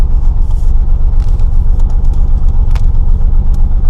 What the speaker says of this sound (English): So I restarted the Blazer, checking my stuff.